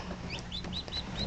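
A newly hatched silkie chick peeps in a run of thin, high chirps against a soft, steady background hum.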